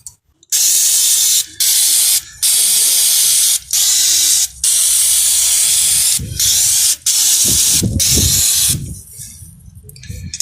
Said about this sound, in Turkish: Onları balata spreyi yardımıyla güzelce temizliyoruz